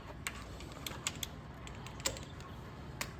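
A torque wrench tightens 8 mm fork guard bolts to 8.4 Nm on a Kawasaki KLX300R dirt bike, giving a handful of sharp, faint clicks spaced irregularly over a low background hum.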